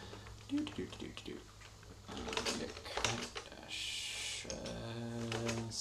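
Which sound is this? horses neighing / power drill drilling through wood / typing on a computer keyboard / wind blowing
typing on a computer keyboard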